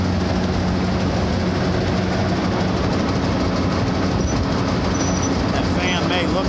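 A restored Clipper seed cleaner runs close and steady, its fan spinning with a continuous mechanical rumble and a high whine on top. A voice can be heard faintly over the machine.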